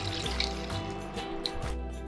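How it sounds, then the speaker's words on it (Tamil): Half a cup of water poured into a kadai for rava kesari, a short steady splash and trickle over a low background hum, fairly close. "இப்போ கடாயில் தண்ணீர் 1/2 கப் ஊற்றிக்கிறேன்."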